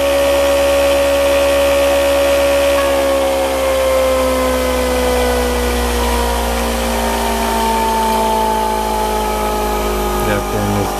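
A QMoGen generator with pancake coils, running at 9 volts with a load connected, gives a steady loud electrical-mechanical whine and hum whose pitch slowly sags as it slows, continuous for the whole stretch.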